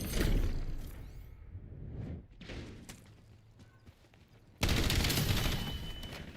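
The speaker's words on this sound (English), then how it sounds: "Struggling with the shotgun." Shotgun blasts ring out in Call of Duty Black Ops 7, loud and close, with a dense burst of gunfire at the start and another sharp, heavy volley near the end, thuds and action noise filling the gaps.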